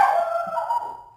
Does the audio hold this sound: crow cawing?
no